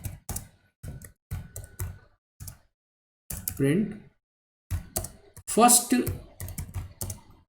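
A computer keyboard clacks as someone types a code comment while programming in Python, with steady close key clicks in short runs that pause for a few spoken words from a man.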